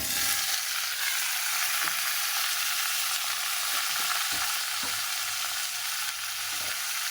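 Vegetables frying in a pan with tempering spices, giving a loud, dense, continuous sizzle close by, with a few soft knocks of stirring scattered through it.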